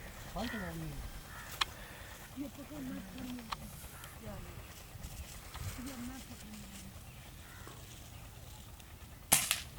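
A Diana 34 air rifle fires once during a dove hunt in woods near a river, a sharp crack near the end amid outdoor ambience, bird calls and intermittent talk.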